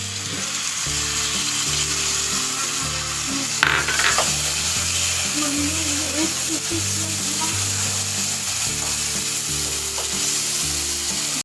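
Masala with coriander powder, garam masala and yogurt frying in a pan while being stirred, a loud continuous sizzle with scraping from a spoon; a low hum runs underneath.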